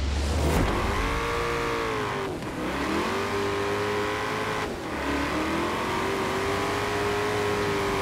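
A Ford Mustang GT engine in Forza Horizon 4 revs hard and loud, pitch climbing, dropping briefly around two and five seconds as gears shift, then rising again in a continuous roar with no talk.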